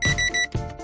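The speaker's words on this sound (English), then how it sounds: "the beeping of your microwave" A microwave oven gives a quick run of close, bright electronic beeps, three short tones in a row and then another, with no voices.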